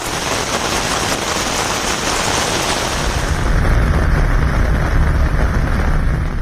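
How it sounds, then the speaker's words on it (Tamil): Heavy monsoon rain pours steadily over Mumbai, a dense continuous roar that swells louder and deeper about halfway through, with no voices. "சுமார் 6 மணி நேரத்தில் 300 மில்லிமீட்டர் அளவுக்கு கொட்டி தீர்த்த கனமழையால்"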